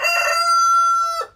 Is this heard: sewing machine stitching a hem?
no